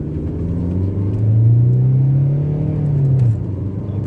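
Peugeot 306 with a custom engine and exhaust accelerating on a road test, a loud close engine drone rising in pitch as it revs, then easing off toward the end, with no talking.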